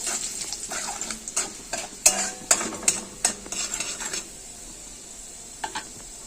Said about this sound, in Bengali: ফোড়নটাকে ভেজে নেব।